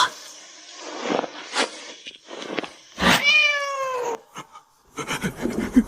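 A tabby cat lets out one loud, drawn-out meow that bends in pitch, set among scuffling noises and brief voice-like sounds.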